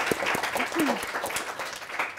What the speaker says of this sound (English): Round of applause for Leslie